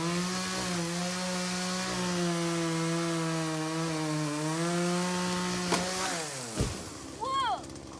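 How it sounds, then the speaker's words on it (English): A running chainsaw drones steadily with a stable engine pitch that shifts slightly while its chain is being sharpened, then revs up and stops near the end, with brief scraping sounds after. "He's sharpening up his chainsaw blade"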